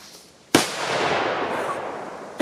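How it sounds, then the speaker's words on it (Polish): A Tomaszek Achtung TP26 firecracker with a 2 g charge goes off outdoors in one sharp, loud bang that rolls into a long fading rumble. A second sharp crack cuts in right at the end. "Ładna, głośna petarda."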